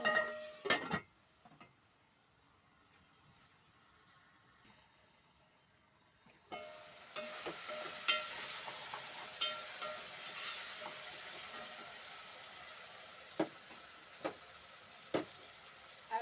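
Tomatoes cooking in a covered pot give a steady, soft sizzle and bubble that starts after a quiet stretch and runs on close, with occasional light clicks.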